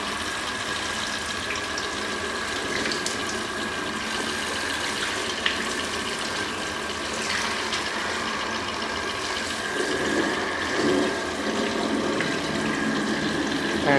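A handheld shower on its jet setting sprays water in a steady, loud hiss with slight surges, rinsing dirt out of a leaking water dispenser tap.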